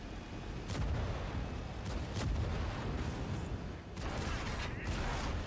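Tank cannon fire rumbles in a ranked video game match, with several heavy booms and low, rolling blasts repeating over a noisy, continuous battle din.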